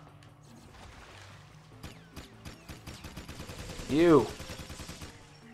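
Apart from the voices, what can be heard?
gunfire from enemies in the video game Jak II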